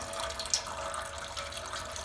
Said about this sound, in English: I got the carburetor off, draining out the gas, and has some water in it.